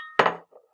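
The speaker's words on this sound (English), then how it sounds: "So we're going to sit here and crack it." One large egg cracked against a bowl rim for doughnut batter, giving a single sharp crack followed by a short shell rattle and a faint soft drip, close and alone.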